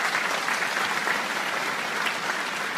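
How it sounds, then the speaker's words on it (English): A large audience claps steadily at a university event where a Union HRD minister is present, a dense and even wash of applause that holds at a constant level throughout with no voices. "Big clapping for our team."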